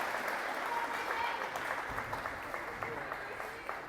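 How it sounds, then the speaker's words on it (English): Crowd applause fills a gym at a girls D3 basketball finals game between the Highland Hornets and Copley Indians, a steady, dense roar of clapping and cheering that holds throughout. "gets a loud applause"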